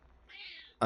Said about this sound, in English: meowing and the like in the background